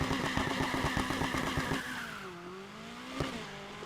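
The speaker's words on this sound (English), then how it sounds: "And I'm gonna start the engine." A car engine in Need for Speed Heat revs hard with rapid rhythmic pulses, then eases into a lower hum as the pitch drops and rises through a gear change.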